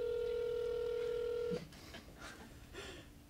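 A phone on speaker dials out a call, with a steady dial tone cutting off at about the halfway point, followed by quieter dialing and connection sounds.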